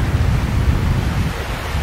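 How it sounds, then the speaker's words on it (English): Surf rolling onto an ordinary beach, a loud, constant low rumble of breaking waves mixed with heavy wind buffeting the microphone, steady throughout with no voices. "Seems like an average beach"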